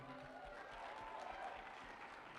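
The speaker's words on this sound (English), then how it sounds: "can I just get a round of applause for Series Committee and Cy Robinson real quick?" An audience at a poetry night held in a cinema claps together in one brief, even burst of applause heard from a distance, soft and low in level, with faint voices mixed in.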